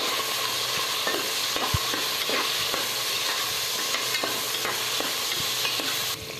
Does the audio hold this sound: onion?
yes